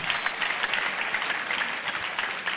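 Dense, steady audience applause fills the room throughout, close and continuous, at a children's Christmas program in Goma.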